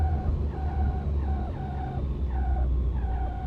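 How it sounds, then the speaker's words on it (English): In X-Plane 12, an aircraft's wheels lock under full braking after a hard landing. A repeating, warbling squeal pulses over a deep, steady rumble, close and continuous with no talking. "So I'll put the fully brakes, sorry, and yeah, we hear that it's locking up."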